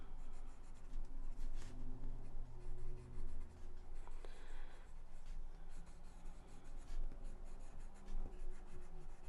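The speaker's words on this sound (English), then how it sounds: "So now I'm going back with my pencil almost up on its tip." Pencil drawing and shading on paper for a Halloween Zentangle, the tip held nearly upright, giving a steady close scratchy rasp of graphite strokes with small shifts in pressure and rhythm throughout.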